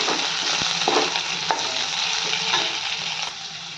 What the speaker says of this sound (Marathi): कट केलेली हिरवी मिरची हिरवी मिरची पण लसणाबरोबर छान परतून घेऊयात